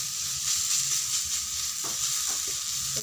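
Potato filling for aloo paratha fries in a pan while being stirred, producing a loud, steady sizzle with occasional scraping strokes, close up and with no talk.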